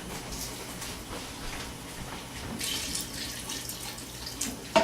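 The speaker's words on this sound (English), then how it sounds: "I'm going to add a little water to thin that out a little bit." Water poured into a pot of chicken tortilla soup, a steady splashing, gurgling stream that runs continuously and close by, ending with a small clatter, no talking.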